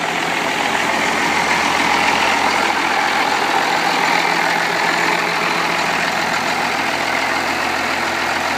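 A 1927 Ford rat rod with a diesel engine idles steadily, a loud, close, continuous low rumble with a dense, rough texture and no pauses.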